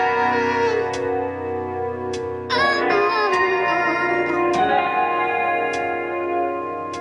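A vocal sample transposed up three semitones during beat editing plays as a sustained, pitched, processed voice over a ticking rhythmic backing, with a sudden change partway through; it is loud and close, and there is no talk.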